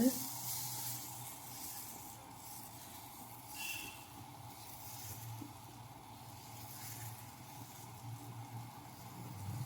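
Dosa batter cooking on a hot pan, a faint steady sizzle and hiss under a low background hum, continuous and fairly quiet, with no voices heard.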